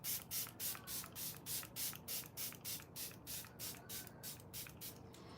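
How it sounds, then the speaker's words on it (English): Fixing spray misted onto a face during a makeup session, about fifteen quick, even bursts in a steady rhythm, close and clear with no talking. "So now I'm gonna spray my face"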